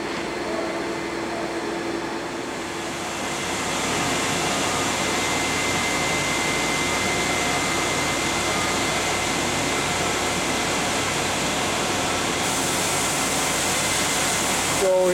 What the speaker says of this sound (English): Here we're showing the coolant system running